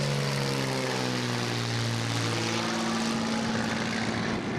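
Small plane engine roaring loud and close during a short takeoff from an Isle of Palms, South Carolina beach in strong wind, a steady propeller drone with a pitch that shifts as the plane climbs.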